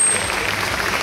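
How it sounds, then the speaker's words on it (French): Audience clapping steadily at a fan festival event in Marseille, a continuous dense wash of applause from a crowd, fairly loud and even throughout the brief moment. "On applaudit, allez, tu viens avec nous devant."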